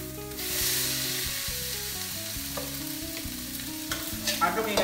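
Fried mushrooms, green beans and carrots stirred together in a pan, with a steady sizzle and repeated scraping strokes that run continuously, close by, with no talk.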